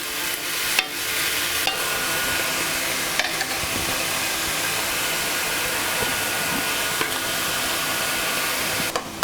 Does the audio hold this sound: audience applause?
no